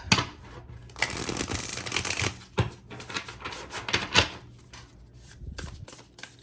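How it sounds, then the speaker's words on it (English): Thick, stiff cardstock tarot cards are shuffled up close, giving repeated bursts of riffling and rubbing with short pauses between them. "you can actually get a pretty good shuffle with it"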